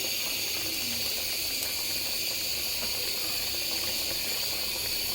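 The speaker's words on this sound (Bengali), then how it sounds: "এই যে মাছগুলো আমি দিয়ে দিচ্ছি" Fish (narikeli/purol) going into a pot of curry that is nearly done, with a steady steamy hiss and bubbling simmer throughout and no voices.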